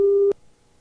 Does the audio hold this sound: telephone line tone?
yes